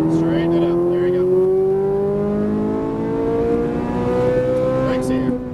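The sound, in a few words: Ferrari 458 Italia accelerating on a race track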